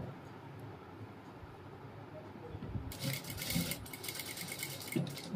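A sewing machine stitches a cap dress, starting faintly and then running steadily for the last couple of seconds as a quiet, buzzy whir.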